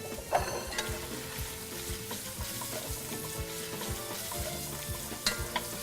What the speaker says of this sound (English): Once your bacon is all nice and almost crisp, we're going to fish it out